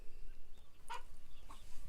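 Broody hen clucking softly, a few brief low clucks close by with quiet outdoor ambience.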